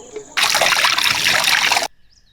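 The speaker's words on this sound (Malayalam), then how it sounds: "ക്യാരറ്റ് നല്ലോണം അരച്ച് എടുത്തിട്ടുണ്ട് അരിച്ചെടുക്കാം" Ground carrot juice streaming steadily through a strainer for over a second, a loud, continuous splashing trickle close up that stops abruptly.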